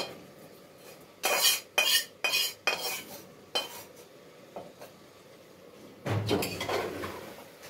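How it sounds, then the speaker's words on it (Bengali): Potatoes tipped into a pot of braised meat, a burst of clattering thuds and metallic clinks against the pot, then a sizzling rush as they land, close and fairly loud. "তো আমি আলুগুলো ঢেলে দেবো"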